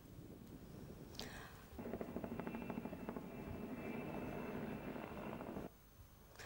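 A helicopter flies by, its rotor chopping as a loud, steady thrum that swells in and holds before dropping off near the end, with no voices over it.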